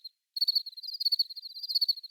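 Crickets chirp in fast, steady pulses, a high-pitched trill alone against otherwise silent surroundings.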